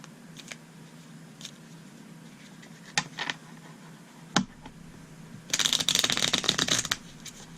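Tarot cards being shuffled by hand, faint scattered riffles and taps at first, then a louder, dense burst of crisp card shuffling near the end, with no talking.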